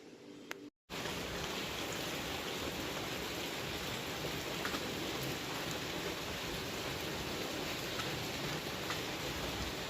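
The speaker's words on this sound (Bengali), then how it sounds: "বৃষ্টিটা এবার বেশ জোরেই পড়তে শুরু করেছে" Heavy rain pours down in a dense, continuous roar after a brief dropout near the start, steady and loud with no talk.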